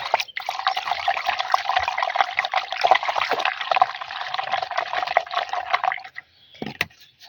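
Water swirls and sloshes steadily for about six seconds as sticker adjuvant is stirred into four litres of water, close and fairly even, then stops.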